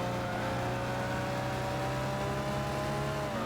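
In the Gran Turismo 6 racing video game, a car engine drones steadily at a constant moderate level, a continuous sustained tone with no talk over it.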